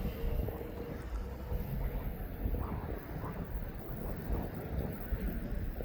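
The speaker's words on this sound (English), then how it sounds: "He's taxiing around slowly at the bottom." An aircraft taxis slowly at East Midlands Airport, a distant low engine rumble blended with gusty wind noise against the microphone, steady throughout.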